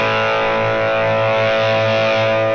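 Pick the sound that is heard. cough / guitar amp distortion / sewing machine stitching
guitar amp distortion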